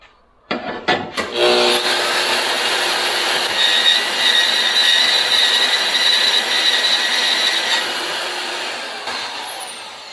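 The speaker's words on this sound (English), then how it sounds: "I think I'm going to use the grinder" Angle grinder cutting steel stock for snowblower lifting eyes, a loud, steady high-pitched whine after a short start-up, running continuously near the microphone.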